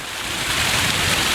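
Steady rushing water from small mountain waterfalls near Goatfell on the Isle of Arran, a broad even hiss with no talking.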